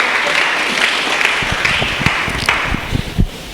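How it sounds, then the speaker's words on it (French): A church congregation applauding during a Sunday service, a loud burst of mixed hand clapping that grows denser and more uneven toward the end. "Acclame la parole de Dieu."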